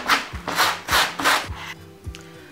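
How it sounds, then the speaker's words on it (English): Sandpaper rubbed back and forth on a denim jacket to distress it: about four brisk, close, rasping strokes in an even rhythm, then a lighter final scrape. "you want to go in with your sandpaper and your tweezers"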